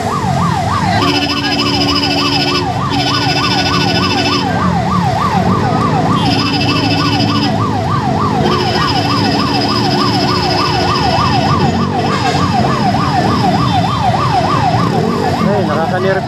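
A fire truck's siren wails loudly and close, with a rapid, rising-and-falling yelp repeating steadily over traffic noise and an air horn blasting in short bursts, responding to a burning Suzuki Gixxer motorcycle.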